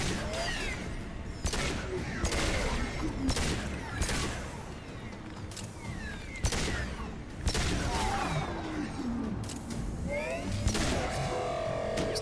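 Repeated gunshots from a sci-fi shooter game, Mass Effect 2, pistol fire in a combat scene; a steady run of sharp shots at irregular intervals over game effects, with no talk.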